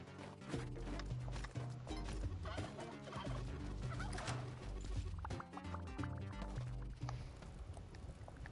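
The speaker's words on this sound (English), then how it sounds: "There's so many fucking turkeys" Turkeys gobble repeatedly in a video game, their bursts of calls overlapping with clattering hoof-like clip-clops and other busy game sounds at moderate loudness.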